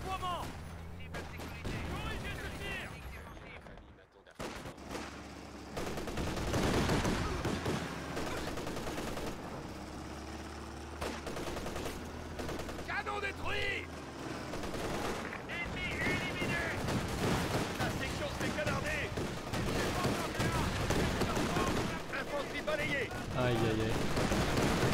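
Enemy gunfire in a competitive video game match, scattered cracks and short bursts recurring throughout over game music and ambience, with people talking over it.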